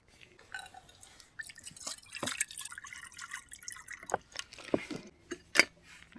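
Water poured into a Trangia stove pot outdoors, irregular splashing and trickling with a few sharper drips, fairly quiet against light outdoor background.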